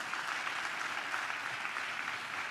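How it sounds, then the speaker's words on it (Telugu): A church congregation applauds during a sermon, giving an even, steady wash of clapping heard from some distance at moderate volume for the whole stretch. "ఒకసారి ఈ మాటకు చప్పట్లు కొడుతూ స్తోత్రాలు చెప్దాం"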